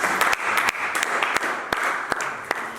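Church congregation applauding during a worship sermon, a steady wash of clapping with sharper individual claps standing out at irregular moments, moderately close and continuous throughout.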